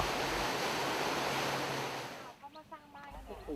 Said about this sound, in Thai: ทำให้ท้องน้ำบริเวณนี้มีน้ำไหลเชี่ยวกว่าจุดอื่น ๆ